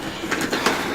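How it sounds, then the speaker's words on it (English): A train rolls past outside an old mill building, a steady, fairly close rail rumble with two brief swells of wheel clatter through the second. "You can hear the trains going by outside"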